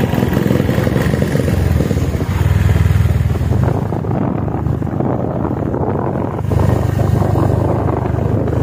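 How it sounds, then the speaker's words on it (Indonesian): A motorcycle carries riders up a slope on Mount Bromo, giving a steady, loud engine drone mixed with rough wind buffeting throughout, with no talking. "Oke, kami naik motor."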